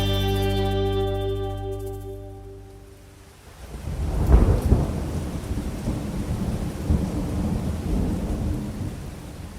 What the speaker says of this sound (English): You'll probably hear rain and some bird life outside